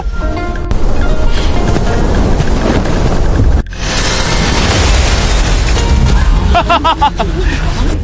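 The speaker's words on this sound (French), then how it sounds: "La perle a explosé." A magic pearl bursts in a loud, sustained explosive roar with crashing noise, cut briefly by a short gap before the rumbling blast resumes.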